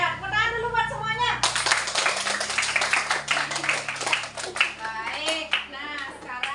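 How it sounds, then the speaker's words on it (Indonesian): Schoolchildren in an elementary classroom burst into brisk group hand clapping after a short stretch of children's chatter, the claps dense and close, mixed with kids' voices throughout. "Tepuk tangan dulu buat semuanya."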